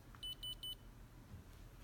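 A student-built electronic alarm system beeps as it is armed: three short, evenly spaced high-pitched electronic beeps in quick succession, faint and close, then quiet room tone.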